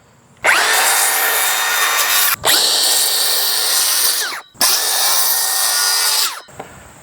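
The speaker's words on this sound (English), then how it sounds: "I have to use the circular saw to cut right in the middle of the post and cut off the excess rail" Circular saw cuts through a cedar fence post and rail in three loud, rasping passes, each a few seconds long with short pauses between.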